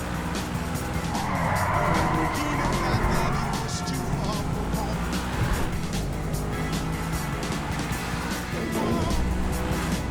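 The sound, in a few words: car driving and skidding in a video game level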